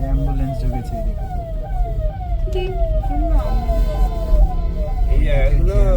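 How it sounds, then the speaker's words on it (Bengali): An ambulance siren on a potholed, partly blocked road through Malda on a Kolkata-to-Siliguri drive, wailing loudly in rapid repeated rising sweeps over steady in-car engine and road rumble. "অ্যাম্বুলেন্স ঢুকেছে এদিকে।"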